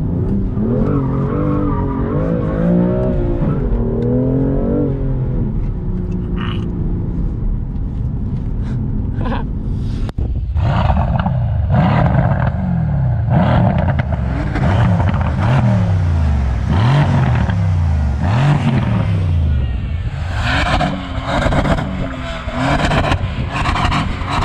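Sports car drifting on a track, engine revving hard in rising and falling sweeps with tire squeal, loud and close throughout, with a brief voice in the background.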